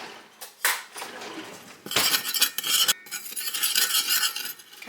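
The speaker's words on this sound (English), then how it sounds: "I'm going to get that stirred around." Metal utensil scraping and stirring in a pot, close up, with clinks and irregular swishing bursts.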